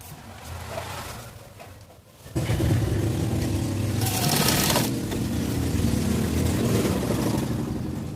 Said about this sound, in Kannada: ಈ ಥರ ಜಗ್ಗಿ ಹಿಡಿದು ಸ್ಟಿಚ್ ಮಾಡಬೇಕು